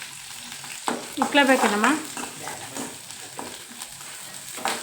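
Onion and curry leaves fry in hot oil in a home kitchen, a steady close sizzle and crackle running throughout while a voice briefly speaks over it.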